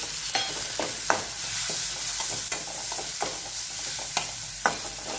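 Ground garlic, green chilli and peanuts fry in oil over low heat for a methi dish: a soft continuous sizzle broken by repeated spoon-stirring clicks and scrapes against the pan.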